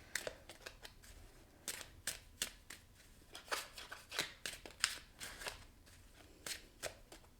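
Tarot cards are handled and drawn in a quiet room. Light, crisp card snaps and flicks come in quick irregular bursts, close to the listener, with no talking.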